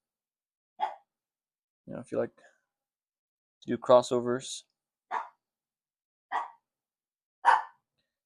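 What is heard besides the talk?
dog barking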